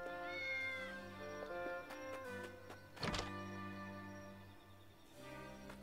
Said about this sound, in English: It's another cat.